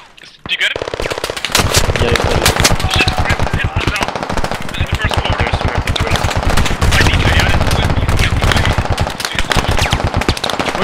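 Machine guns fire in the military shooter game Squad as loud, rapid, continuous bursts that barely pause across the stretch, with extra heavy shots mixed in nearby.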